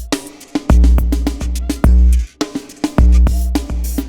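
Minimal-style beat from the Audiofier Pragmabeat plugin, with loud repeating kick and bass thumps under sparse tonal percussive hits in a steady, punchy groove.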